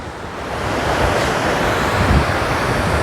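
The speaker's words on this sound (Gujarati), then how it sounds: "ડેમમાંથી કેવું પાણી આમ દરવાજામાંથી પાણી આમ તમે કહો ને એક નંબર વધી વહી રહ્યું છે" Water rushing through the open gates of Khodiyar dam on the Shetrunji river, a loud, steady roar of churning flow heard close up and continuous, with wind buffeting the microphone and no voices.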